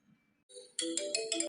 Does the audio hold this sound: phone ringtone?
yes